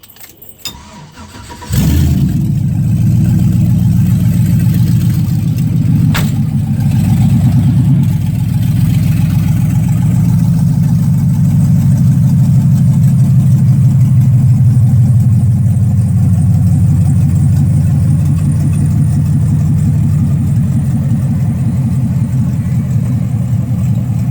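A 1957 Chevy Bel Air with a swapped LS 5.3 V8, lacking a finished exhaust, starts up and settles into a steady, loud, deep idle that continues alone for the rest of the clip.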